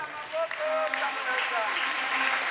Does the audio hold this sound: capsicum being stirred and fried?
no